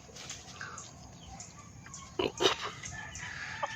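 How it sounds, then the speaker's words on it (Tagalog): Soft, scattered clucks from chickens at a distance, with a couple of sharper calls in the middle, over faint background noise. "pinakain na ni Jain ang mga alaga natin mga manok dito sa taas"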